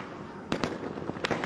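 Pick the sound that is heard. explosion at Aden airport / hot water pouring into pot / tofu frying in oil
explosion at Aden airport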